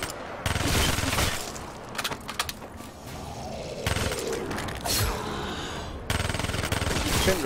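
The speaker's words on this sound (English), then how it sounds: "Rockets going off again." Rocket explosions and gunfire from Black Ops 3 Zombies on the Der Eisendrache map, loud bursts of booming and rapid crackling fire coming in several waves, with a brief lull between them and no speech.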